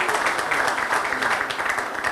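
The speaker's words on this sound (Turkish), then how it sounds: "Onun için başkana şöyle bir motivasyon alkışı" Applause from an audience at a Turkish stage show, a dense continuous wash of clapping at moderate volume, heard on its own with no talk over it.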